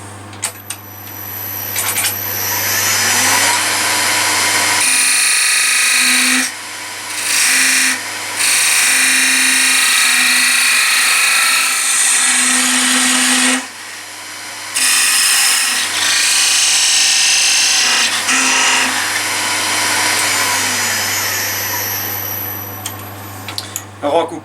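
A power tool whines loudly while cutting an oak pen holder, running in long steady stretches broken by brief pauses where the motor drops off and restarts.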